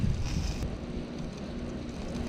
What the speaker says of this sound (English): as the wind blew and was starting to give us some difficulty